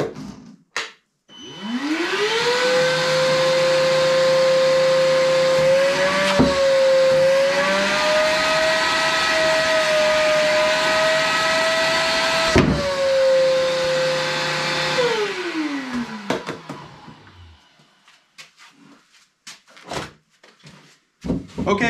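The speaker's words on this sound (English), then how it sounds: "the 40 volt was able to do this, so it most certainly has more suction on it" A Ryobi 40V cordless wet vac: its motor spins up with a rising whine, holds a loud, steady suction roar for about fourteen seconds with a couple of knocks, then winds down to quiet clatter.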